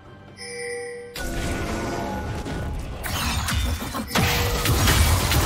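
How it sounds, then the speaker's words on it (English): A League of Legends turret is destroyed: a ringing chime gives way to a heavy crash and crumbling rubble that builds into a dense, loud rumble with a second impact near the end, and no voices. "Blue team's turret has been destroyed."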